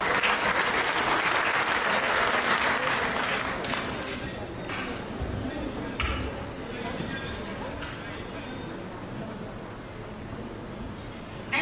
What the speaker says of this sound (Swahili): please let's welcome Madam Helen Rintari from ILO with a round of applause